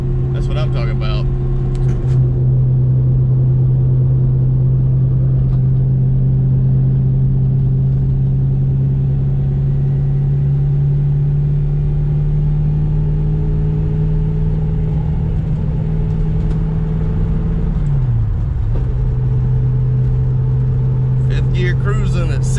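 Saleen car engine holding a steady, loud drone while cruising in fifth gear at about 60 on a test drive, with a brief dip in pitch near the end as it settles back to the same tone.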